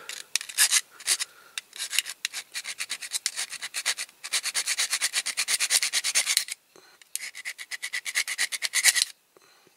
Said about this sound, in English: at the same time as filing down, it should take a bit of the outside edge off